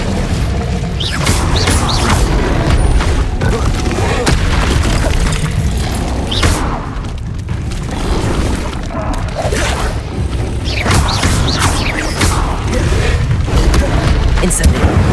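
Spell blasts such as Incendio and Confringo fired in the Hogwarts Legacy game: continuous heavy booms, crackling bursts and clanking impacts, loud and dense throughout with a voice calling over the action.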